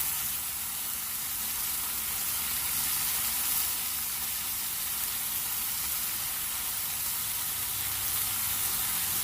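Cheeseburger patties cooking on a griddle give a continuous, even sizzle, a bright frying hiss that holds steady throughout with no talking over it.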